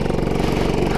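Go-kart engine held at full throttle on an outdoor kart track, a close, steady buzzing drone with fast regular pulsing.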